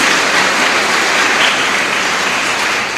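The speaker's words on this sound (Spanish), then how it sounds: "Fuerte aplauso para cada uno de ellos." Loud, dense applause fills a chapel congregation for about three seconds, a steady wash of many hands without a break or audible voices.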